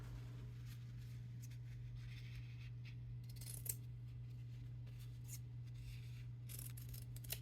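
Scissors snip through paper while shabby chic paper flowers are made, a series of quiet, crisp cuts spaced irregularly over a faint steady hum, close to the microphone with no talking.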